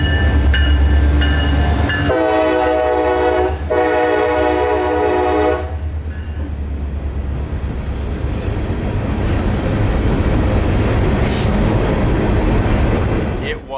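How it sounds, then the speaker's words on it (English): Freight train led by two locomotives, a GP40-3 and a GP38-2, hauling 27 empty rock hoppers in Florida; a loud horn blast opens over heavy engine rumble, then the train rolls steadily past with wheel and car noise, some talk underneath. "two locomotives, 6509, a GP40-3, and 2549, a GP38-2, hauling 27 empty rock hoppers out of Palmetto headed back to Tampa."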